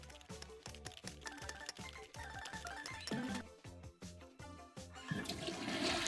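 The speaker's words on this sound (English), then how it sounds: "the flushing sound always gets me right beside the arcade" Toilet flushing in the management game Mad Games Tycoon 2, a loud watery rush rising over a busy layer of game music and arcade noise, swelling toward the end.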